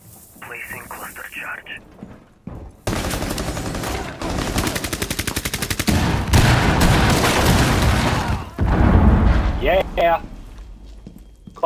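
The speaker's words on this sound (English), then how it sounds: "Cluster bomb works." Rainbow Six Siege gameplay with a burst of cluster bomb explosions and rapid gunfire, loud and dense, crackling booms in quick succession mixed with sharp shots and brief voice chat.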